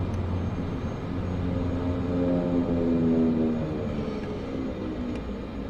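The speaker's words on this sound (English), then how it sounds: "Reverse thrust." Aircraft engines roaring in reverse thrust after touchdown in Microsoft Flight Simulator 2024, a loud, steady drone with a tone that rises and swells midway, then eases slightly.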